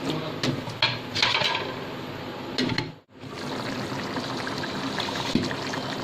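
Water pours into a cooking pot holding potatoes and peas for aloo matar gobhi, with a steady splashing stream and faint clinks of the pot. The pour pauses briefly midway, then resumes at an even level.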